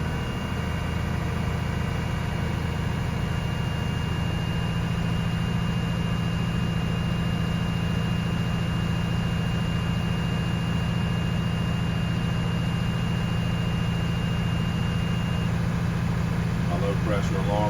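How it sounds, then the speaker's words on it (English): A heavy truck engine runs at raised, steady revs to fill the air brake tanks during an air brakes test, a constant loud low drone with a sustained tonal hum and no change in pitch across the whole stretch. "I'm going to rev the engine to 1500 psi doing this"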